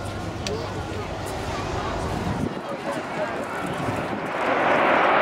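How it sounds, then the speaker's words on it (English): Jet aircraft at the Eastbourne air show sweeping past in a banking turn, a steady broad roar that swells louder toward the end, with a voice talking over it. "See this very obvious shape of that aircraft as they come past in this turn."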